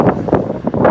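Strong outdoor wind gusts buffet the microphone loudly and close, a continuous rumbling roar with surges, heard while metal detecting.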